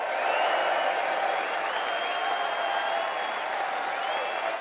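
Crowd applause at the first Brexit Party rally, steady sustained clapping from a large audience, loud and continuous throughout with a faint whistle-like tone running over it.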